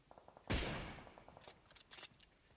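Gunfire in the battle royale game PUBG, one sharp, loud shot that rings out and decays, followed by a few fainter, distant crackling shots, all set against a quiet background.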